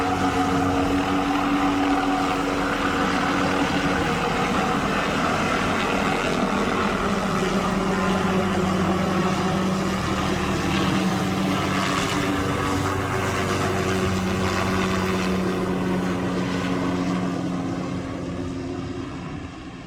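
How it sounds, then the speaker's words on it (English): Helicopter hovering close over steep mountain cliffs while dangling cargo, a loud, steady rotor and engine roar holding throughout with no talk, easing slightly at the very end. "Actually feel the wind from the helicopter right here."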